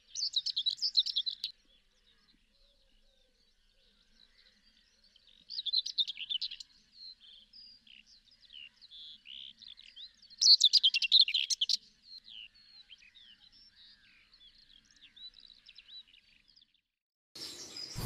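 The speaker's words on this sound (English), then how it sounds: "I was lucky enough to get this territorial white throat." A territorial whitethroat delivers several short, scratchy song bursts separated by pauses, fairly close and clear over a quiet background, with faint softer calls between phrases and no voices.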